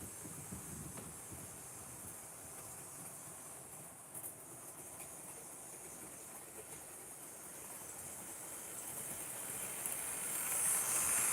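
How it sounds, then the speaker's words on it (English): A Coca-Cola model train runs steadily along its track, a continuous close hiss and rumble that grows slightly louder toward the end, with no talking. "Then we'll give the Coca-Cola train a run."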